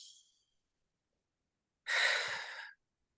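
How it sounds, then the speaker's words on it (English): One soft sigh-like exhale through the mouth follows a faint breath, then near silence, close and quiet with no talking. "breathe through both nostrils and exhale through the mouth"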